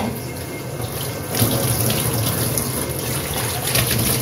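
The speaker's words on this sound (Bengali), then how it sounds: "বাটিটা একটু ধুয়ে নিই।" Tap water runs steadily into a kitchen sink as a bowl is rinsed, a close, continuous splashing rush that swells slightly midway.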